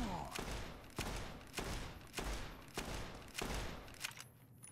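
Gunfire in the video game Fallout: New Vegas, with five evenly spaced heavy shots about a second apart, each a sharp crack with a booming low tail, ending in quieter ambience.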